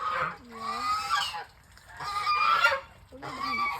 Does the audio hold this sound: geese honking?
yes